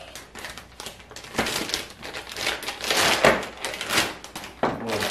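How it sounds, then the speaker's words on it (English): Crinkly plastic wrapping handled during unboxing of a wireless CarPlay device, with irregular close rustles and crackles that rise and fall, and no talking. "Plastic bag there."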